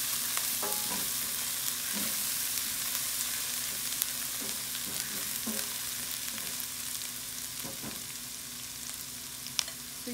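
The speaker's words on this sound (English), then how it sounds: "So you can see that it's frying very well." Chili paste and garlic fry steadily in a hot pan, with a continuous close sizzle broken by occasional stirring scrapes and soft pops.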